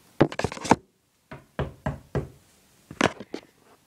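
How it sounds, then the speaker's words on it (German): Knuckles rap on a door in three quick bursts of several sharp knocks each, separated by short pauses, close and clear with no talking. "Ich klopfe wieder."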